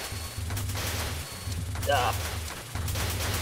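Marisa B's rapid missile shots in the Touhou 14 bullet-hell shooter fire as a continuous buzzing, pulsing barrage with short breaks, under steady game music and a voice speaking over it.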